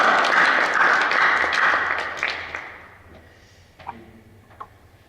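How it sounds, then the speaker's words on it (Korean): A church congregation applauds loudly for about three seconds. The clapping then thins out and fades, leaving a few scattered, isolated claps in a quieter room. "우리 박수로 우리 하나님께 영광의 소리를 드립니다."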